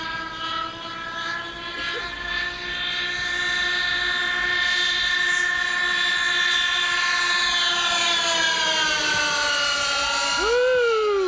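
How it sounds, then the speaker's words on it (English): Cloud Dancers airshow team aircraft roar past in a formation flyby at a 1987 practice, a loud sustained droning whine with shifting pitch as the planes sweep overhead and away. "Yeah, give me another flyby, guys."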